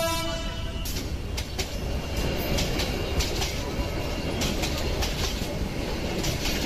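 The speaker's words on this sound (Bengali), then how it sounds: "ট্রেনের সেই হন হন শব্দ শুনতে বেশ ভালোই লাগছে।" A moving cartoon train rolls along at a steady clatter with rhythmic wheel clicks. The sound is dense and continuous, with no talk.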